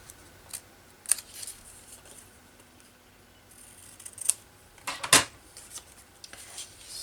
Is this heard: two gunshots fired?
no